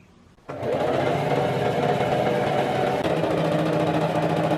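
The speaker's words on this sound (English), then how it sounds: "I'm going to go through and do another stitch right below this one, about 1/4 of an inch." A sewing machine runs a straight line of stitching through dress fabric for a ruffle skirt, starting abruptly and then holding a steady, close, even mechanical whir to the end, with no talking.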